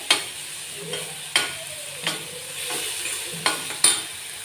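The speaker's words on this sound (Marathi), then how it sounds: "घरी बनवलेला अर्धा चमचा धना पावडर अर्धा चमचा हळद मसाले छान असे मिक्स करून घेऊया" Spoon stirring and scraping coriander powder, turmeric and homemade spice masala in a pan for a bitter gourd curry, with several sharp utensil knocks against the metal over a soft sizzle, close and alone.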